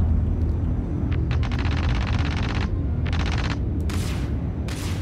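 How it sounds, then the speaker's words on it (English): Rapid bursts of weapon fire crackle in a space dogfight in a video game, several dense volleys of repeated shots over a deep steady engine rumble, loud and near. "Everybody starts shooting."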